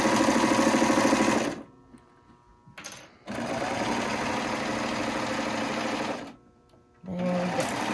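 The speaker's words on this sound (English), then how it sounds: "You can see how nice the stitching is on the Baby Lock serger." A Baby Lock serger stitches fabric for a DIY face covering, running in loud, steady bursts broken by two short pauses.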